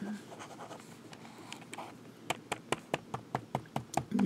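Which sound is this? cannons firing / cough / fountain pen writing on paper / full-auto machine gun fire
fountain pen writing on paper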